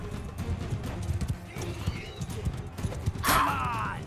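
In Mount & Blade 2 Bannerlord, a galloping horse's hooves drum steadily beneath battle noise, then a sharp, loud whinny rings out close by toward the end.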